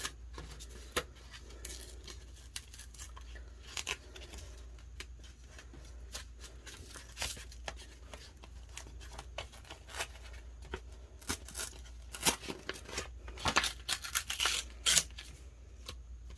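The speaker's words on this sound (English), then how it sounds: "So I'm going to peel this circle from the backing" Waterslide decal paper being handled up close as a small clear circle is peeled from its backing, with faint scattered crinkles and ticks that turn into denser crisp peeling and tearing rustles near the end. Quiet throughout, with no voices.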